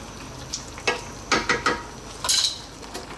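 A spoon scrapes and clinks against a pot as spinach potato curry is stirred with coconut milk. Several short stirring strokes sound over a low background hiss.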